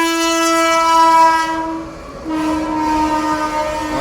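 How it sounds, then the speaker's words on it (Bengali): A freight train passes a railway level crossing near a roadside temple, its horn blaring in long, loud, steady blasts with a brief break, over the rolling rumble of the wagons. "ট্রেন আসছে, এদিকে মালগাড়ি।"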